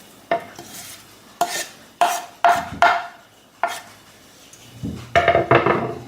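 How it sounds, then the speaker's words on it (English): A spoon stirs chopped dill into a pot of soup, making a series of scraping, clinking strokes against the pot at irregular intervals. The strokes are fairly close and there is no talk. "I put the dill inside, all the chopped dill into the soup, and I'm mixing it up."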